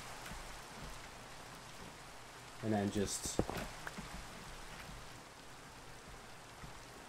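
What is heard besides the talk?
rain in Minecraft, a video game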